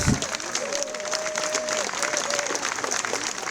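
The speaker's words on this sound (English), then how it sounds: "I'd like to give you a round of applause here." A crowd at a Ho-Chunk festival opening ceremony applauds elder Walter Whitehorse, a World War II Navy veteran, with dense steady clapping and a sustained tone running beneath part of it.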